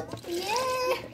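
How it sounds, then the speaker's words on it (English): Orange juice poured into a blender for a smoothie, a short liquid pour with a rising, ringing pitch as the container fills, close and fairly loud. "Pour the orange juice in."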